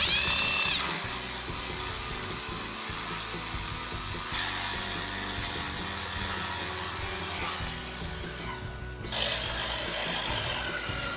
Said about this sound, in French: soit vous percez dans le trou oblong